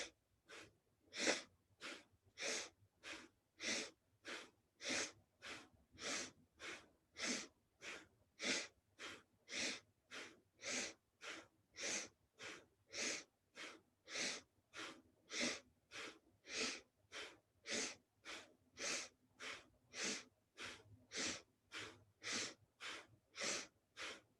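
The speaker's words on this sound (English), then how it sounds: "let's bring it to a breath of fire." Breath of fire in a kriya breathing class, a long steady series of sharp, forceful nasal exhalations, close and regular, repeating dozens of times at an even rhythm with no talking.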